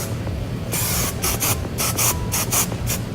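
Short bursts of hairspray hissing from a can, a string of quick sprays in an uneven rhythm, close and fairly loud over a low background rumble.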